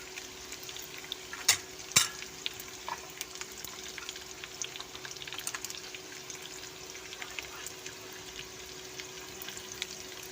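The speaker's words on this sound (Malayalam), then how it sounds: "ഇതൊരു ബ്രൗൺ കളറാകുന്ന വരെ നമ്മളൊന്ന് വഴറ്റിയെടുക്കണം" Ginger and garlic sauté quietly in a pan, giving a soft, low sizzle with a few sharp clinks and stirring scrapes early on. Nobody speaks.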